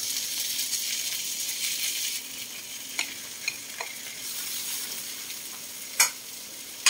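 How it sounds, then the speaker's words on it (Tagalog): Garlic and tomatoes fry in a pan for picadillo, a continuous hiss of sizzling oil punctuated by a few sharp stirring clacks from a utensil against the pan. "Kapag-brown lang natin yung bawang. Ayan. Next is, lalagay na natin itong, medyo nasunod na yung ating bawang, kamatis."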